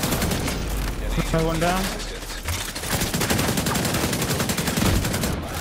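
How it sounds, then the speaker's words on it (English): Rapid shotgun and gunfire in a video game match, dense loud volleys of shots running through nearly the whole stretch, with players talking over the firing. "This fucking shotgun."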